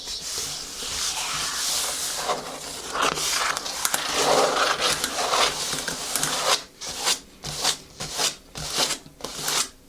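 Close, dry scratching and rubbing on a book's paper, continuous at first, then breaking into separate brisk strokes toward the end.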